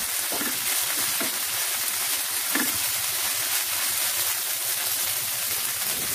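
Chopped tomatoes fry in a pan with a steady, soft sizzle, and a few faint stirring knocks break through it.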